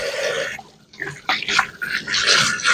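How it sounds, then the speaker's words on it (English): Hands are washed under running water from a tap, giving a close splashing wash with uneven bursts and a brief lull partway through. "Let me wash my hands."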